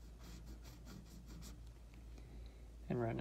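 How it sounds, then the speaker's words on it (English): A pencil outlines a college sports logo, the Arkansas Razorbacks emblem, with soft, close scratchy strokes in a quiet rhythm, and a voice comes in briefly at the end. "all we're really doing is outlining the main lines that we want to use"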